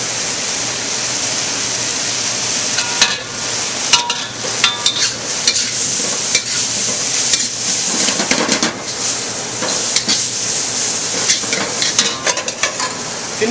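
Noodle stir fry sizzles loudly in palm fruit oil in a hot pan, a dense, constant hiss broken by irregular clatters and scrapes of stirring, with no talking.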